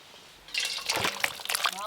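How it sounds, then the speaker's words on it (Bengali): Rohu fish and brinjal curry pours out of a pan in a wet, sloshing trickle that starts abruptly and runs on, close by. "বেগুন দিয়ে রুই মাছের ঝাল হয়ে গেল, এবার ঢেলে নেব।"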